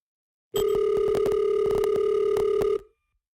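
During an outgoing real estate cold call, a single steady electronic telephone tone sounds for about two seconds, loud and close, with faint clicks under it before it cuts off into silence.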